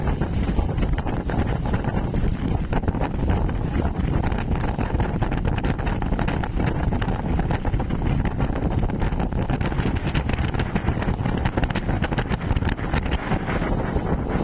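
Strong wind at sea roars and buffets against the microphone nonstop, a dense, loud rumble with no breaks and no voices.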